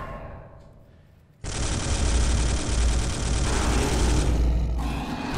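Storm bolter gunfire from the Space Hulk video game erupts after a short quiet lead-in, a loud, dense, sustained burst of automatic shooting that continues to the end.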